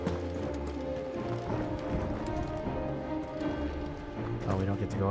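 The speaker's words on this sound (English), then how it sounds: "More horses." Horse hooves clip-clopping in the video game Final Fantasy XVI, a steady rhythmic trot over game music and ambience, with a voice talking over it.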